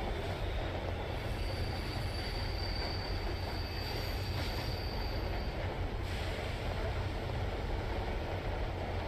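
Continuous rumble and rattle of a train ride in the horror video game Train 113, with steady rolling wheel noise and faint high squeals running throughout, no voices.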